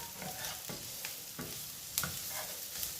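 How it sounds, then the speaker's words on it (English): Onions sauteing in a hot pan at home, a steady soft sizzle broken by several scraping stirs of a utensil, close and moderately loud with no talking. "what I'm doing right now is sauteing the onions first"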